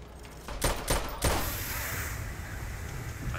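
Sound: gunfire from a video game

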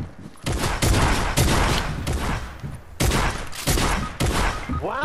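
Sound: gunfire in the video game Fortnite

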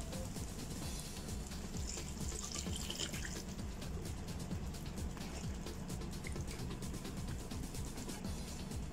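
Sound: hot water poured into mutton kurma gravy

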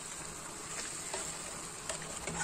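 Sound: stirring marinated chicken tikka with lemon juice in pan

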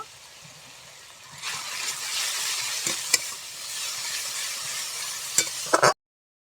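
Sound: frying brinjal with turmeric and Kashmiri chili powder

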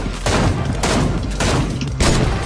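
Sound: gunfire in the video game Fortnite

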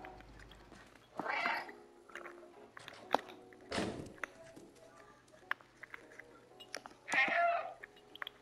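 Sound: cat meowing in the video game Stray

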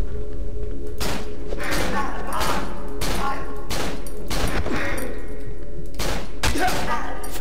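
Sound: gunfire in video game Cry of Fear

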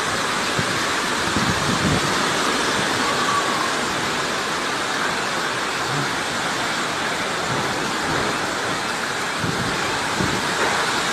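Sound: strong wind gusts during a storm

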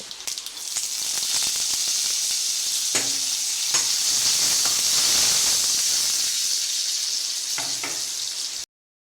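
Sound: tempering with neem leaves sizzling in hot oil

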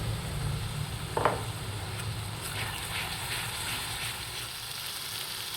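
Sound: ginger garlic onion paste with spices sautéing in pan

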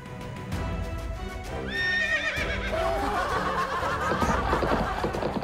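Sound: person imitating a horse neighing in a guessing game

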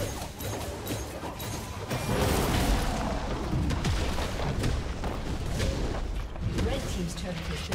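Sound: turret destroyed in League of Legends video game

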